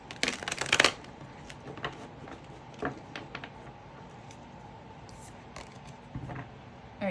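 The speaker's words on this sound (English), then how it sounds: "I'm gonna shuffle just a few more times." A deck of cards is shuffled close by, with a quick riffling burst at the start followed by softer, scattered shuffles and taps.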